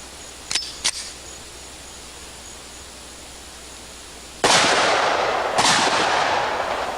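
Two gunshots from a handgun firing 325 grain jacketed hollow point bullets at about 1,330 feet per second, each a sharp, loud crack with a ringing tail, after two faint clicks.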